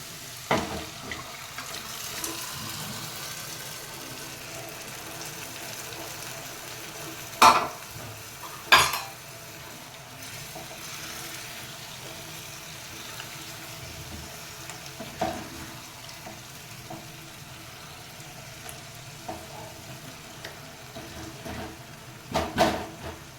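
Mutton frying and being stirred in a pan, a low background sizzle broken by occasional scraping and knocking of a spoon, with louder clattering bursts near the start and end, no talking.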